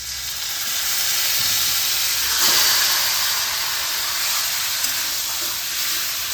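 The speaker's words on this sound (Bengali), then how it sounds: "এবার আমি ম্যারিনেট করা চিকেনটা এর মধ্যে দিয়ে দেবো।" Marinated chicken dropped into a pan of lightly fried garlic gives a loud, steady hiss and sizzle that swells briefly midway, then settles into a constant spitting fry.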